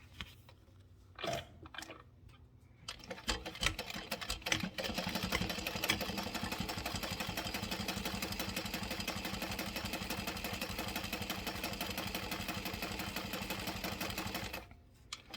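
A domestic sewing machine runs steadily for about ten seconds while top stitching a Luna garment at a 4.5 stitch length. Its rapid, even mechanical whir is close and loud and sounds alone, with a few handling clicks before it starts and a stop near the end.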